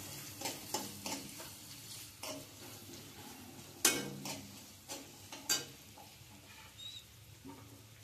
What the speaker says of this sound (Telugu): ఉల్లిపాయలు, పచ్చిరొయ్యలు కూడా వేగిపోయినాయండి. కొంచెం అల్లం వెల్లుల్లి పేస్ట్ వేస్తున్నాను.